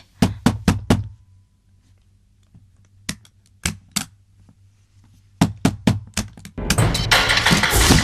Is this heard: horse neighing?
no